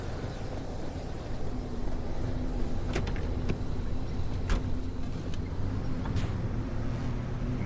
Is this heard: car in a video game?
yes